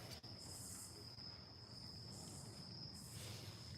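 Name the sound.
crickets chirping in forest at night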